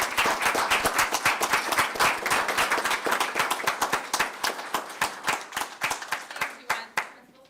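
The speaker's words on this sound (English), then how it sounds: "let's give them a round of applause" An audience at a school board meeting applauds, a dense burst of many hands clapping that thins into scattered individual claps toward the end.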